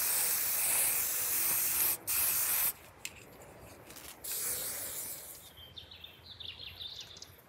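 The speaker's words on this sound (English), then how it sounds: "Mozzies. Spray directly on them." Hissing bursts of an insect repellent aerosol spray against mosquitoes, a long spray then short ones with pauses, close and fairly loud, with faint birdsong in the background outdoors.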